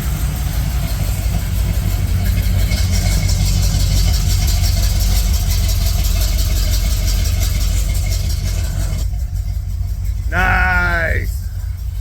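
A Chevy C10 squarebody truck idles through its new exhaust, a steady low rumble that fills the whole stretch, fairly loud and close, with a brief chirping sound near the end.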